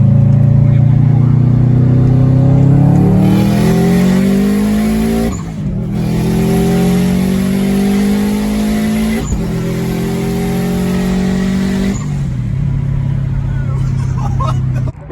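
A big-turbo STI-swapped Subaru Forester accelerating hard, its engine note climbing loud and close through several gear pulls, each with a brief dip at the shift before rising again.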